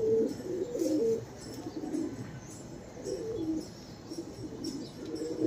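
Pigeons coo in a loft as a male chases a female off her eggs. Low, rolling coos repeat in close bursts with slight chirps, and no one talks.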